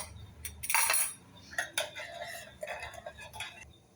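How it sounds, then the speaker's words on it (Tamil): A metal spoon clinks and scrapes against a cup or bowl while dissolving sugar into liquid, a few quick stirring strokes with light tapping, close and fairly quiet, no talking. "நம்ம 4 ஸ்பூனு ஜீனி விட்டு கரைச்சி வைக்க போகிறோம்."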